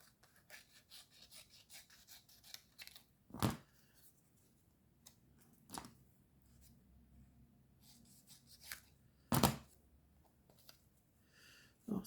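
Scissors cut paper for a collage, close and quiet: soft scratchy rustling broken by a few sharp, distinct snips spaced several seconds apart.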